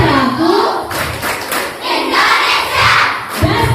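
A group of children claps in rhythm while loudly chanting together in a patriotic clapping game, with energetic shouted syllables and sharp claps close by.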